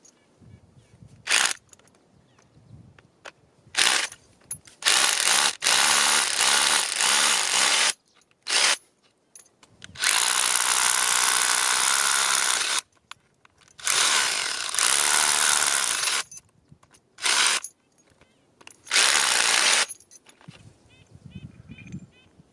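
Power drill boring holes into cave rock for glue-in bolts, loud grinding bursts of several seconds each repeated with pauses between, some quiet handling noise in the gaps.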